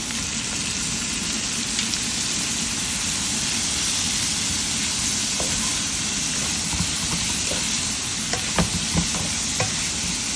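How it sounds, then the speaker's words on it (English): Chicken liver stir-fries in a pan with onion, garlic and ghost pepper, a steady loud sizzle throughout, with a few sharp clicks of stirring toward the end and no talking. "frying here to cook the chicken liver"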